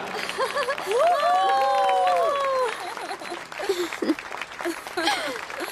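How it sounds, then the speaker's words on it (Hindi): An audience claps with light cheering in a school setting during a Korean drama dubbed into Hindi. The applause is moderate and is mixed with rising tonal sounds and voices. "तो इनके लिए एक बार फिर से तालियां हो जाएं।"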